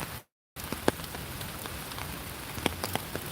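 Steady in-game rain patters across the whole stretch in Pokemon GO, a soft, even hiss with a few brighter drop ticks. It cuts out for a moment near the start, then returns.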